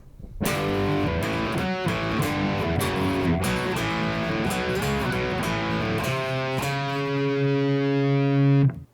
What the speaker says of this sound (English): but the chorus sounds kind of like this.